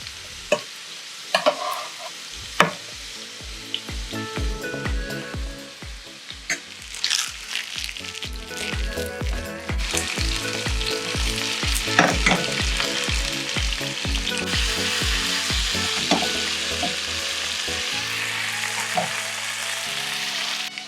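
Breakfast slices fry in a hot pan with a steady, loud sizzle, punctuated by repeated close clinks and scrapes as they are stirred and turned.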